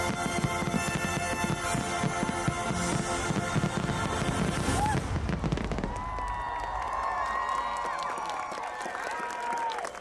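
Dense fireworks crackle and burst at the finale of Disney's Wondrous Journeys show, with overlapping booms and sparkling pops over a cheering, applauding crowd, thinning out to scattered crackles and distant voices after the peak.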